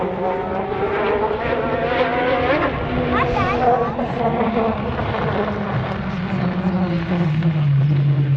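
Yamaha YXZ side-by-side engines drone and rev on the St. Anthony sand dunes, a loud continuous buzzing with rising and falling pitch sweeps as gears change, with voices mixed in beneath.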